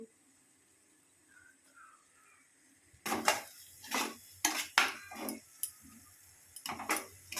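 Spices in a pan for a potoler dorma recipe, with cumin powder, Kashmiri red chilli powder, turmeric and salt, stirred with a utensil. After a quiet start come close, distinct scrapes and clinks against the pan in an uneven rhythm.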